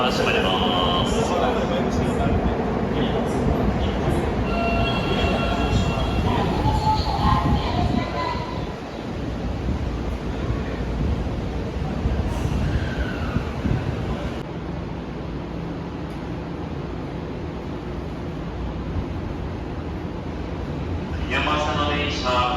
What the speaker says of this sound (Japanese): 山下の電車、回送電車でございます。